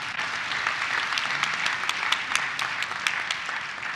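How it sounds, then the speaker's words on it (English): A church or faith-talk audience gives a round of applause: dense, even clapping with sharp individual claps standing out, sustained for about four seconds at a steady moderate level. "Let's give them a round of applause."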